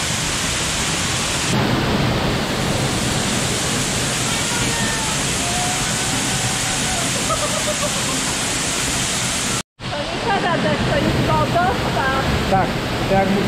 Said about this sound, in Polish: To jest właśnie wodospad, to jest piękny.